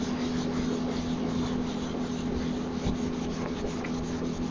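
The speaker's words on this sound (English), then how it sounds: "you rub it until it feels like it's really moving along quickly and there's no resistance" Steady hand rubbing of wax on a small wooden cabinet, a continuous soft scuffing with even strokes and a faint low hum underneath, close and moderately quiet.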